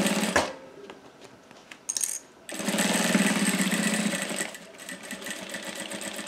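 A sewing machine stitches a clear plastic cosmetic bag with cotton straps, starting with a brief backstitch and then running in a steady rapid buzz before slowing, with no talk.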